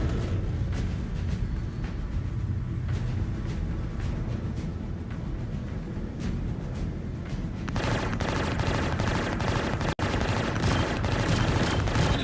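Star Citizen spaceship weapons fire in a sustained, dense barrage of rapid shots with rumbling booms, loud and continuous throughout, growing harsher partway through.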